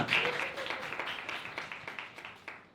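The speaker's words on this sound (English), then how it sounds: "Can we get a round of applause for these contributors?" An indoor audience at a salon talk on plural democracy applauds contributors, a brief burst of clapping that thins out and fades.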